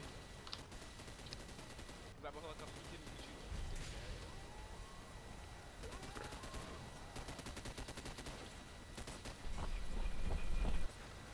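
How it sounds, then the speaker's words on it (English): Rapid bursts of gunfire crackle in a zombie-shooter video game as a rebel helicopter fires on zombies, sustained and dense with scattered sharp impacts and a louder flurry near the end, mixed under background game noise. "Rebel helicopter continuing to shoot zombies in the area."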